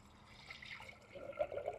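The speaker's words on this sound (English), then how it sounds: "So I'm gonna actually go ahead and fill it with some water that I already had." Water pours and trickles softly into a vintage pottery container in a garden, a brief, faint, close splashing fill.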